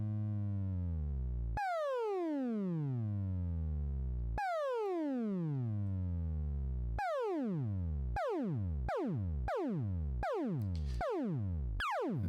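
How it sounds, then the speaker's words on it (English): Synthesizer tones sweep sharply downward in pitch, first in slow long glides, then faster and faster repeated drops, a steady electronic sound with no voices. "We need to turn that to something in order to hear this modulation."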